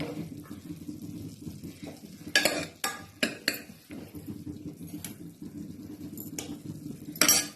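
A broad beans stir-fry is stirred in a metal pan, with sharp spoon clanks and scrapes against the pan in several bursts over a soft low sizzle, close by and without talk.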